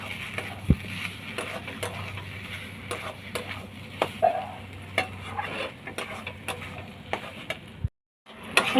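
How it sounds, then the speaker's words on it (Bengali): Spiced vegetable chop filling stirred in a pan, with steady scraping and faint sizzling ticks running throughout, close and moderately loud, then a brief silence near the end. "এবার মশলাগুলো দিয়ে আমি ভালো করে মিক্স করে নেব।"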